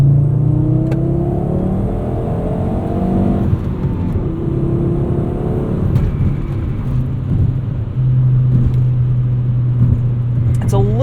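A Volvo 850 R with a 3-inch downpipe drones along under load from inside the car, a steady loud engine hum with a shift partway through; no one speaks.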